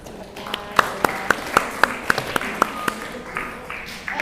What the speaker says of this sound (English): Let's welcome with a round of applause the first evaluator, Miss Bulan